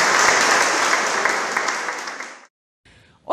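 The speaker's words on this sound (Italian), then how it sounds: "Possiamo anche fare un applauso alla corale" Audience applause for a church choir fills a hall, loud and dense for about two and a half seconds, then cuts to silence before a brief voice begins.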